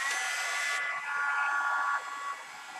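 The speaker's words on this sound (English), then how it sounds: "I'm going to heat this bad boy up." A heat tool blows hot air over embossing powder for wet embossing, a steady, close whirring hiss with a faint whine, running continuously and shifting slightly in tone as it moves.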